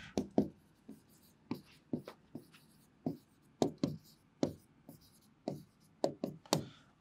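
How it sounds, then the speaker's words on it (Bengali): Handwriting on a surface during a Bangla class lesson, a series of sharp scratchy pen strokes and taps in irregular bursts, close and fairly clear with quiet pauses between words. "আমি লিখে দিচ্ছি এখানে"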